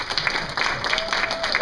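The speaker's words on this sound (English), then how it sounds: "we want to give you guys a round of" Audience at an annual autism fundraiser applauding, a dense patter of clapping hands filling the room briefly, with a voice faintly heard underneath.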